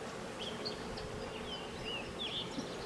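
Honeybees hum steadily at a hive of gentle, docile bees, a soft continuous drone with scattered bird chirps above it outdoors.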